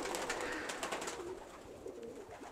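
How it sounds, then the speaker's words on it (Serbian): A racing tumbler pigeon coos softly, a faint, low, burbling call heard against steady background hiss. "Prelep golub."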